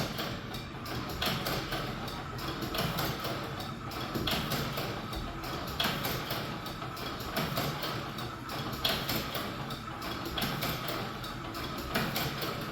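An electric automatic cigarette rolling machine runs with its speed turned up, giving a steady, fast mechanical clatter with rapid rhythmic ticking throughout, fairly close and alone.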